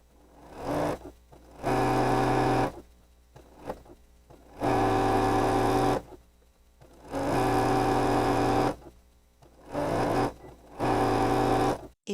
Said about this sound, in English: we're going to sew all the way around the outside on every one of them